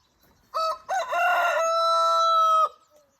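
A rooster crows on a farm in spring, close and loud: one long cock-a-doodle-doo with a stuttering start and a sustained final note, alone against quiet surroundings.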